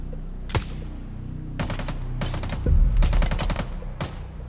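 Shotgun fire in the tactical shooter game Ground Branch: a lone sharp blast, then several clustered bursts of loud shots spread across a few seconds, with no voices.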